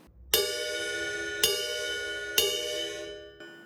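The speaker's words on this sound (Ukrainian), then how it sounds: "але ми зачастіше ми використовуємо Bell на райді." The bell of a ride cymbal is struck three times, each a bright ringing ping that sustains and decays, followed by a faint fourth tap.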